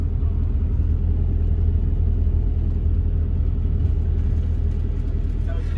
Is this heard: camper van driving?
yes